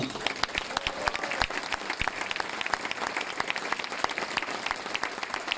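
An audience at a political speech in a hall breaks into sustained applause, dense overlapping claps continuing steadily throughout, with no talking over it.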